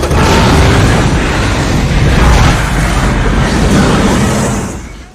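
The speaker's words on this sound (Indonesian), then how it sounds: "bom pun kemudian meledak" A loud, sustained explosive roar that rumbles steadily for several seconds before fading at the end.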